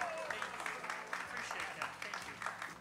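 Concert audience applauding after a summer outdoor concert performance, steady dense clapping throughout at moderate volume with some crowd noise mixed in.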